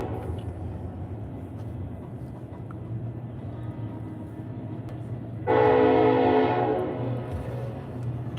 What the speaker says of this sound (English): Just a commuter train, thankfully.